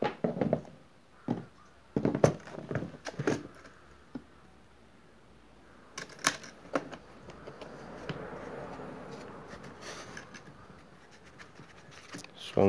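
An aluminium Bosch case holding drill bits and chisels for concrete being handled and opened, with sharp clicks, knocks and scrapes of the latches and lid, and a voice talking in between.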